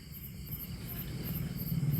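Night insects chirp steadily in a continuous, moderately loud chorus, with a katydid-like buzz among them and no voices.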